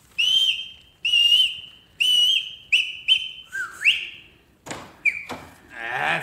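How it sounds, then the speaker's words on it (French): A secret signal code whistled by a person: three long sustained whistles, then short clipped ones and a final wavering, approximate whistle, loud and close in a quiet room. "sifflez-les. 3 coulants, 2 courts et un approximatif selon le code sifflet secret en usage au SDUC."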